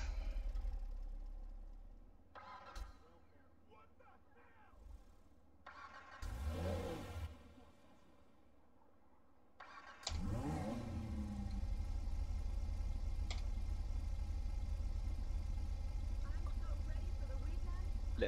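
A player's car in a video game idles with a steady low engine rumble, a brief rev or start mid-clip, then settles into a louder continuous drone; a voice talks over the first half.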